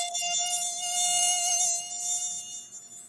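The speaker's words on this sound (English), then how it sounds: "Sounds like you get a mosquito right in your friggin' speaker." A mosquito-like whine plays through a speaker, a steady high-pitched buzz with strong ringing overtones that swells and fades slightly but continues throughout, close and fairly loud with no talk over it.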